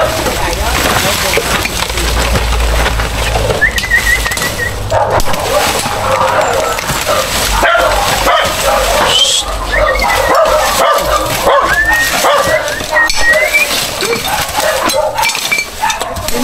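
Dog yips and barks come through now and then in a busy outdoor scene with steady background noise and people talking nearby.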